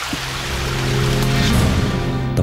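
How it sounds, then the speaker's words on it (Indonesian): A forest waterfall pours in a steady rushing stream, moderately loud and continuous with a low droning hum beneath it, with no voices. "Ada air terjun di depan."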